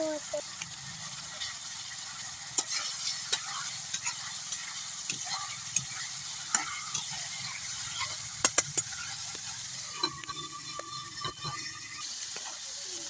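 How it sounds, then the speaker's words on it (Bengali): Pangas fish pieces cook with spice paste in a pan, giving a steady bright sizzle and hiss broken by scattered scraping stir clicks, with muffled speech underneath. "আমি এখানে মাছগুলা দিয়ে দিচ্ছি, কষাই নিব আগে মাছগুলা মশলার সাথে"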